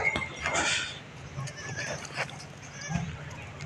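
Goats bleat a few times, fairly faint, over a low background murmur and occasional quiet voices.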